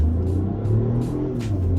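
A 2022 Mini Cooper Countryman ALL4 pulling away hard from a traffic light, its engine giving a steady low rumble and drone heard close from inside the cabin, with no talking.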